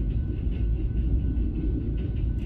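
Steady low rumble of a train rolling past nearby, a continuous heavy drone without pauses or voices.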